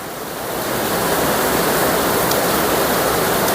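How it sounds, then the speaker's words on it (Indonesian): Heavy rain pouring down outdoors, a dense steady roar of broadband noise that swells in over the first second and then holds loud and unbroken. "Hujannya semakin deras"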